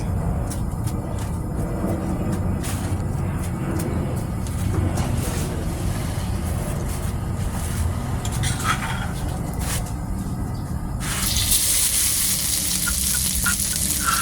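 Oil sizzles and crackles steadily in a hot wok before stir-frying pounded seasonings for Thai basil pork, with occasional clinks of a utensil; the hiss brightens near the end.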